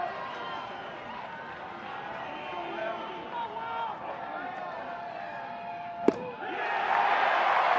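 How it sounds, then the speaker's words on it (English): Crowd noise at a college baseball game between Georgia and Florida swells as fans rise to their feet, a broad steady roar with scattered shouts, one sharp crack near the end, then the cheering surging louder. "Crowd comes to its feet"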